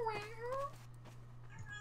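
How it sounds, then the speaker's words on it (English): A cat in heat meowing loudly near a gaming headset microphone, two or three drawn-out close meows over a steady low electrical hum. "Yes, cat, we fucking hear you."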